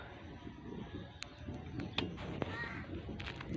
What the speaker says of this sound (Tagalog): Umaga, maingay uwak.